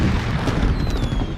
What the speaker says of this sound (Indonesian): komet yang sedang mereka ikuti tiba-tiba meledak